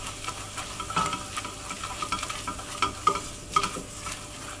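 A flour roux stirred in a hot pan over lowered heat, with irregular scraping strokes and a soft sizzle, close and fairly quiet with no voices.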